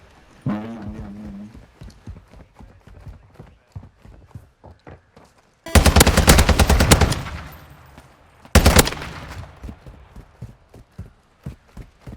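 Gunfire in a battle royale video game: two loud bursts of rapid automatic shots, the first longer, alongside quieter footsteps and game effects, with a short voice early on.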